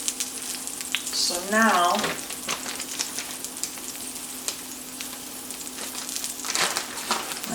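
Hashbrowns fry in a skillet with a steady, close, low sizzle and a few soft scraping touches. A voice speaks briefly near the start.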